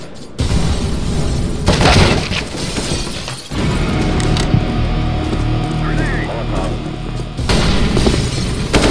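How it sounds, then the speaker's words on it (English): A flashbang grenade goes off during a CS:GO match, with loud shattering, booming game effects and several abrupt bursts, and a voice talking underneath. "Throwing flashbang."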